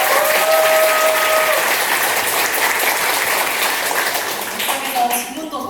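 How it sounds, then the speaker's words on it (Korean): A conference audience at an opening ceremony in Jeju breaks into dense, sustained applause for three speakers. It stays loud throughout and thins slightly near the end, with faint voices briefly audible. "솔직하게 이야기 다 나눠주신 세 분의 연사님께 큰 박수 부탁드립니다."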